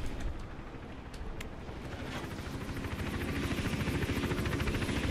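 Helicopter hovering overhead in Hitman: Absolution, a steady rotor thump and engine drone that grows slightly louder toward the end, with no talking.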